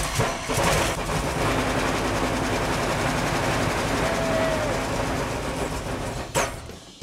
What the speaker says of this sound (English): It doesn't sound like the motor. What the hell's that? That's a weird sound. That's exhaust.